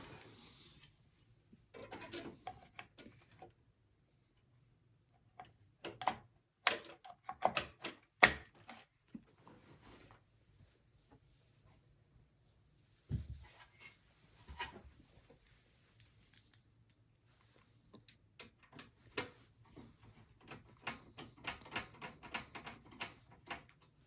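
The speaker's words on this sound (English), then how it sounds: "So I'm installing the video card." An ASUS GeForce GTX 1650 Super graphics card being fitted into a motherboard slot: scattered close clicks, taps and light scraping in short bursts separated by quiet pauses, with no talking.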